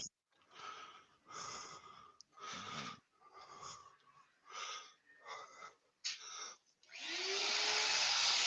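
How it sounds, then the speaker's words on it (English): A Hoover vacuum cleaner switches on after several bursts of talking, its loud, close motor roaring up into a steady broadband rush as the pitch climbs and holds. "just switching the Hoover on"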